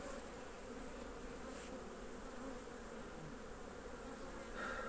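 A steady, dense hum of many buzzing bees, continuous and fairly quiet, with no voices.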